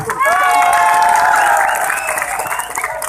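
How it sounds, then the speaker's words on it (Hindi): A crowd at a rally in Rourkela claps loudly, with raised voices and shouting riding over the applause for most of the three seconds. "जोर से ताली मारी दिंतु"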